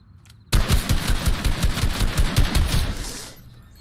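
Rapid automatic gunfire in Fortnite, a loud close burst of about three seconds with fast repeated shots that starts abruptly and then trails off, no talking.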